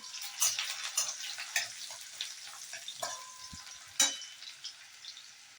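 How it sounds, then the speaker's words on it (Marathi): Chopped ginger and garlic fry in hot oil over a high flame, giving a steady close sizzle with scattered crackles and a couple of sharper pops, no talking. "तेल तापलं की सगळ्यात पहिला हे बारीक कापलेले आलं आणि लसूण घालायचे आहे आणि गॅस एकदम फास्ट ठेवायचा आहे."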